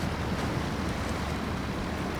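A Navistar truck in Snowrunner churns through a river crossing in low gear, a dense, steady rush of splashing water and wash, fairly loud and unbroken.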